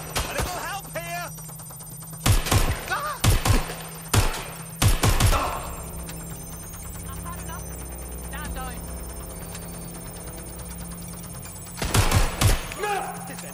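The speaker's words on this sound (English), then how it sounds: "Suspects shooting!" Several loud, sharp gunshot bursts ring out in Watch Dogs Legion, clustered near the start and again near the end, over a steady electronic hum with game voices speaking in between.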